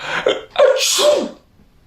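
A human voice mimics a queen's sneeze for a children's bedtime story, a short wind-up followed by a loud, breathy burst, close to the listener and standing alone.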